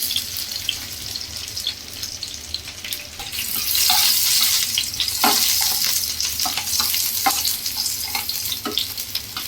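Onion, dried red chillies and garlic frying in oil in a home kitchen pan, a steady sizzle swelling louder midway, with scattered scraping clicks of stirring throughout.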